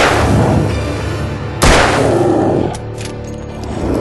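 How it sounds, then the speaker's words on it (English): A gunshot fired at enemies in the Alan Wake video game, one sharp loud crack midway over a dense, noisy game soundscape. "Reload and shoot him, Jay!"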